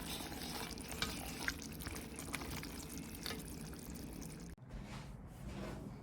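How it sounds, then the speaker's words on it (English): Pot roast stracotto being stirred in a pot, with a steady close sizzle of simmering liquid and soft scraping strokes, then a brief clunk and a short pause before the bubbling resumes. "I'm just gonna give it a good stir, put the cover on again"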